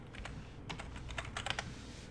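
Rapid keystrokes on a computer keyboard, a quiet uneven run of clicks that bunches into a busier burst midway before easing off, heard close with no voices.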